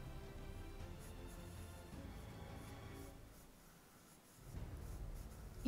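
A pencil sketches a Spitfire plane on paper, a soft, faint scratching and rubbing of graphite strokes that runs almost continuously, with a brief quieter pause before the strokes resume.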